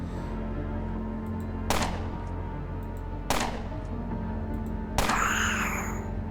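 Three pistol shots ring out in the Underrail video game, evenly spaced about one and a half seconds apart, each a sharp crack over a steady low hum, the last trailing into a ringing, whooshing tail.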